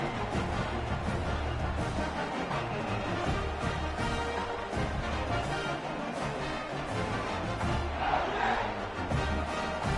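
Football stadium crowd after a touchdown drive that extends the lead to 14, a dense sustained roar of cheering and shouting filling the whole stretch at steady loudness.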